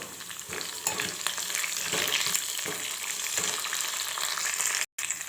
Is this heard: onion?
yes